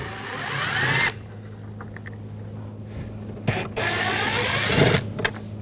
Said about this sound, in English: Now we're going to take these screws out